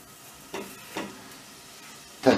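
Chopped peppers and onion tipped into a pot with a little liquid give short sizzling hisses, two soft bursts followed by a louder, sharper sizzle at the end, close by in a quiet kitchen.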